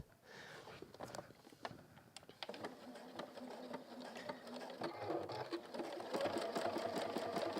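A sewing machine stitching fabric for a hemisphere pin cushion, a rapid mechanical chatter that starts in short bursts and then runs steadily, growing louder, close up and alone.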